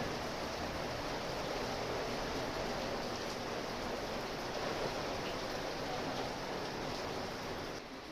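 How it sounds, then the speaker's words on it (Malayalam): Steady, dense rain hisses evenly throughout, a constant wash of falling water with no voices or other sounds breaking through. "അപ്പോൾ കണ്ടോ നല്ല മഴ"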